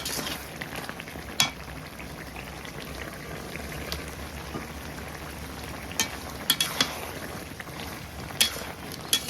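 Fish goes into a curry frying in a pan and gets stirred through it, giving a steady close sizzle under a few sharp clicks and scrapes from the spoon, with no talk.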